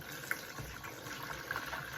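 Water pours steadily from a rinsed stock pot into a water bath around yogurt jars, a continuous close, soft gushing wash without talk.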